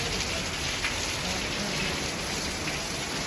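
Steady rain falls on a surface, a dense, even hiss of drops with no talk, continuous and fairly loud throughout.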